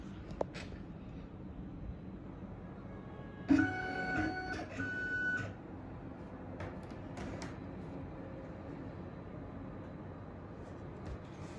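An ANYCUT KNC91 key cutting machine powers on: a short burst of whirring and beeping tones for about two seconds, then a steady quiet electrical hum, close up in a quiet room.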